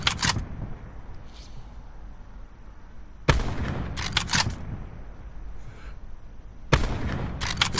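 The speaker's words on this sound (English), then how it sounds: "This is probably one of the longer shots I've managed with the Paladin" In the Blackout video game, a Paladin sniper rifle fires three loud, sharp shots at evenly spaced intervals, each one leaving a brief echoing tail over a quiet background.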